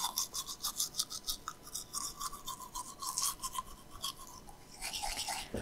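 A toothbrush handled inside a horror video game set in a bathroom gives off rapid scratchy bristle scrubbing strokes, rhythmic and fairly faint, continuing for several seconds with no talking over it.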